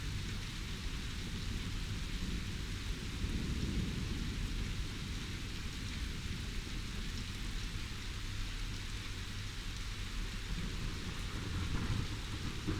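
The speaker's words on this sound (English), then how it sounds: "It's raining." Steady rain pours in the video game Phoenix Springs while low thunder rumbles continuously underneath, a dense, even wash of storm sound heard alone with no voices.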